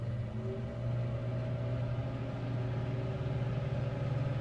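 A microwave oven cooks an omelet at 30% power, giving off a steady low electrical hum with a faint mechanical drone underneath, unbroken throughout.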